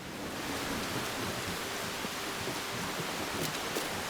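Continuous game rain in Assassin's Creed Black Flag, a soft even wash of falling water with faint rustling and a couple of brief crackles, quiet and steady throughout with no voices.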